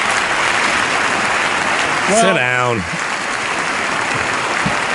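An audience applauds a remark about cancer research, a broad wash of clapping that fills the clip while a voice briefly speaks over it.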